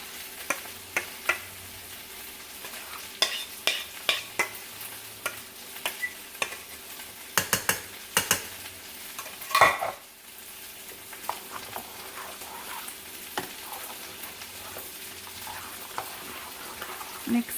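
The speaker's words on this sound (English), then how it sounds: "It's still sizzling because it's, you know, the cast iron." A noodle casserole mixture sizzles softly in a cast iron pan while being stirred, with scattered scraping and clacking of the utensil over a faint steady frying hiss.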